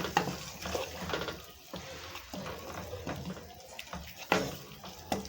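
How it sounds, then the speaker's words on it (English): A spoon stirs milk into beef stew in a pot, giving soft irregular scrapes and wet swishes at close range that are fairly quiet, with occasional sharper clinks against the pot. "I'm going to add it in there, all of it like that, and then I stir it to let it mix well"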